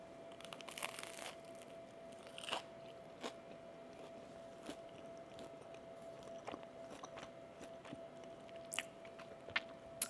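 Biting and chewing a toasted Hawaiian English muffin pizza fresh from an air fryer, quiet crunchy bites and chewing repeated at irregular intervals, close and faint, no talking.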